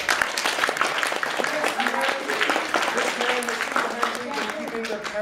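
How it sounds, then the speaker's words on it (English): A convention panel audience bursts into applause, steady clapping from a room of people sustained for the whole five seconds, with some voices mixed in. "Everyone, a round of applause."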